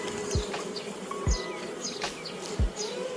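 Honeybees buzz close by, a busy droning hum with individual bees whizzing past in quick passes.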